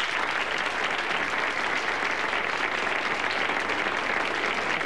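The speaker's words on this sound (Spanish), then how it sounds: "a Robert De Niro, para el que pido un fuerte aplauso" Loud, sustained applause from a large audience fills the whole stretch, steady and dense without letting up.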